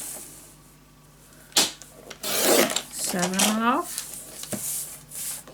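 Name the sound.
paper being scored on a scoring board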